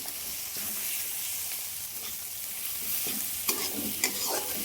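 Two eggs fry and sizzle in spiced oil for dal tadka, stirred with a spatula that scrapes and clacks against the pan in a few distinct strokes over a steady hiss.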